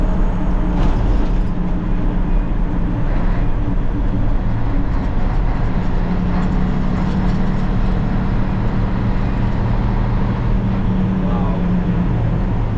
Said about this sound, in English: there's the train coming across.